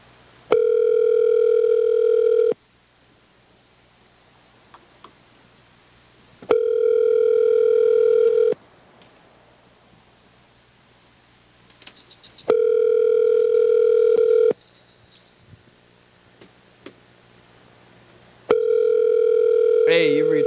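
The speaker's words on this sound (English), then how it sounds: "let's call Friday the producer" Outgoing telephone ringback tone while placing a call to a producer: four long steady rings about two seconds each, separated by roughly four-second gaps of near silence, loud and clear.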